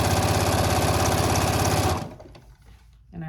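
A sewing machine stitching fleece while assembling a qaspeq: a loud, rapid, even mechanical chatter of stitching for about two seconds, then stopping abruptly into quiet handling and rustling of the fabric.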